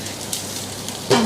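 Food frying in a pan at home, a steady crackling sizzle throughout, with a brief louder burst and tonal squeal near the end.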